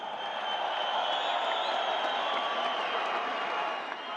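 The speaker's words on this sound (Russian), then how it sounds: "аплодисменты обоим бойцам!" Arena crowd at a title fight clapping and cheering for both fighters before the judges' verdict, a steady dense wash of applause with scattered whoops, sustained throughout.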